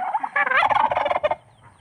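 A turkey gobbles once on a farm, a loud, close, rapid warbling burst lasting about a second, with no talk over it.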